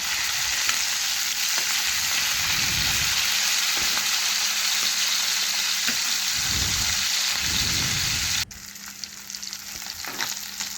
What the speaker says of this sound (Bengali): মাছগুলো একটু লাল লাল করে ভেজে নেব